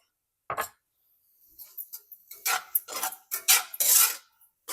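A utensil scrapes and clinks against a pan while ash gourd halwa with ghee is stirred, in irregular close bursts after a short pause, without any talking.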